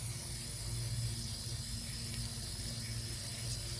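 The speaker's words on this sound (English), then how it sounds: "And then just give it a good rinse with your water" Running water hisses in a steady, faint spray as a work hat is rinsed under a tap, a continuous wash of sound with no voices.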